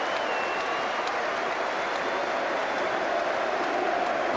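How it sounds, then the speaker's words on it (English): Crowd applause after Nottingham Forest's League Cup Final win over Oldham Athletic, a dense, continuous roar of clapping from a large stadium crowd. "Applause from the manager for the team that have achieved another victory"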